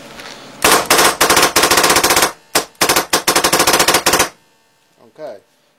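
An air-powered gun fires in loud rapid bursts of sharp shots, several long strings separated by brief pauses, close and dominant, followed by quiet and a faint voice at the end.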